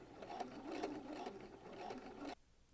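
A sewing machine stitches around the sleeve cuff of a dress, a soft, quick mechanical whirr with faint rhythmic pulses for a couple of seconds, then stopping abruptly, fairly quiet and close with no talking.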